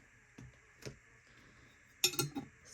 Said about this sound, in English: Got some quarters and nickels to put in